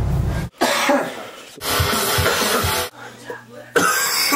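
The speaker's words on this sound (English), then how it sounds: "it's going to be continuous coughing in the background." Several harsh, loud coughs close by in quick succession, with brief pauses between bursts and a short break of quiet.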